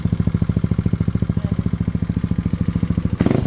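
A motorcycle fitted with a JBT exhaust pipe revs on a dyno, a loud, steady, rapid engine pulse that holds its rhythm before a sharp burst near the end.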